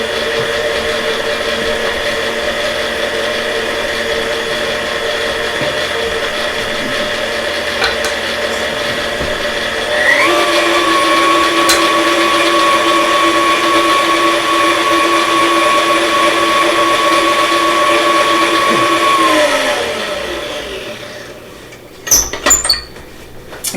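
A stand mixer churns half a cup of whole wheat flour into rosemary olive bread dough, a steady motor hum that climbs in pitch midway, runs evenly for about ten seconds, then winds down, with a few clacks at the end.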